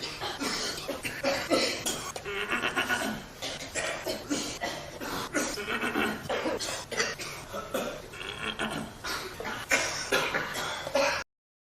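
An audience at a chess game coughs and clears throats almost without pause, many overlapping coughs near and far in a hushed room.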